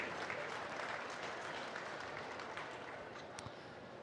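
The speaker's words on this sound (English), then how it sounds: "let's go ahead and give Mr. Kevin Jensen a nice round of applause for an excellent job today" Crowd at a Colorado State Fair market beef show applauding the cattle judge, a soft, distant, sustained patter of clapping across an arena that tapers slightly toward the end.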